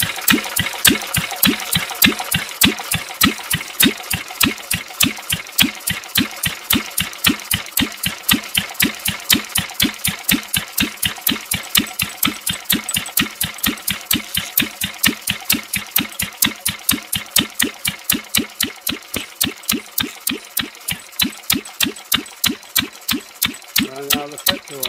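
A Lister D diesel engine chugging steadily at a slow, even rhythm, each loud individual firing stroke distinct and close up, running continuously throughout with a faint knock near the end.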